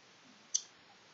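A single sharp computer mouse click, faint and isolated against near silence.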